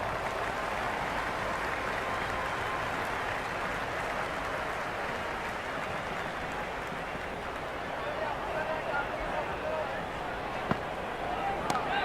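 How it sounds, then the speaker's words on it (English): Stadium crowd in the cricket video game Cricket 26 during an IPL match: a steady, broad roar of cheering and applause, moderately loud and unbroken, with a commentator talking over it. "Will you listen to that crowd? They are loving this."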